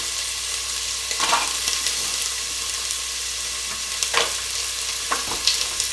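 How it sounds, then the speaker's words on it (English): Carrots sizzle in a hot pot for chicken rice soup, a constant close frying hiss with a few brief stirring scrapes and clinks scattered throughout. "I'm going to go ahead and put the carrots in there"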